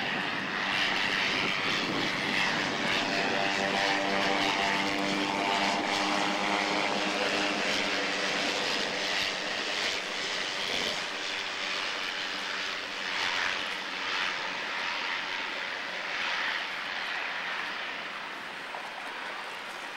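A float plane's engine and propeller drone steadily and loudly at a float plane dock in Vancouver, a continuous near roar that fades slightly toward the end.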